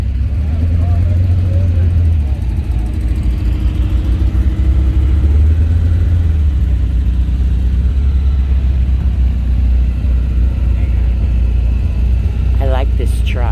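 A Chevrolet Blazer engine idles and rumbles at a car show, a loud, deep, steady drone with a brief rise in revs near the start, while people talk nearby.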